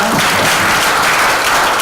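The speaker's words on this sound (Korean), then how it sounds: "박수 한번 부탁드리겠습니다." Applause from a conference audience opening an award ceremony for eco-friendly local governments at the National Assembly members' hall, a dense, steady wash of clapping lasting about two seconds, loud and close with no talk over it.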